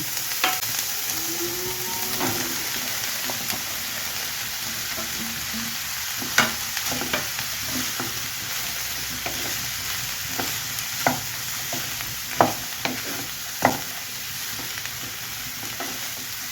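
Cut ridge gourd pieces frying in a pan, a steady hiss of sizzling oil broken by intermittent sharp scrapes and taps of a spoon stirring against the metal, no voices.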